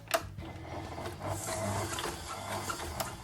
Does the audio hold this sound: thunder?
no